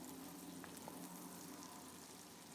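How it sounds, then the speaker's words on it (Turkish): Sliced onions frying in a pan, making a steady, fairly quiet sizzle that stays even and alone throughout. "Kavuruyorum biraz soğanlarımı"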